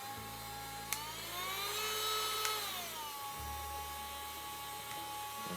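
A Black & Decker 8V cordless rotary tool runs with a steady, close motor whine that rises in pitch as the speed increases, holds briefly, then drops back to a lower hum. No one speaks.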